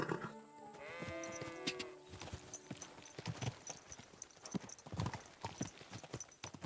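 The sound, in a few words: horse hooves in video game Kingdom Come Deliverance II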